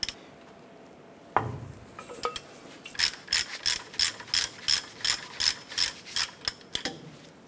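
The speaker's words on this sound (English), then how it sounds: "Using a 7/8 socket and ratchet, we're going to go ahead and loosen our lower ball joint nut." A 7/8 socket on a ratchet loosens the lower ball joint nut on a 1994-2004 Chevrolet S10, starting with a sharp knock, then a quick rhythmic run of about a dozen close, crisp ratcheting clicks, with no talk.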